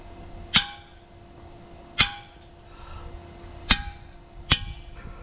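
Impact tool hammering at a stubborn brass oiling tube plug in an engine block during cam bearing work, four sharp metallic bursts spaced unevenly over a low background hum, fairly close and loud.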